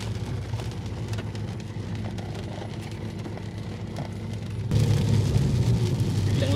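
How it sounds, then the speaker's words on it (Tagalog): Steady rain hisses on surfaces, then abruptly swells into a louder, heavier downpour about two-thirds of the way through. "Biglang sobrang lakas na ng ulan."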